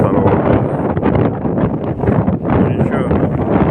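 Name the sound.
cold wind blowing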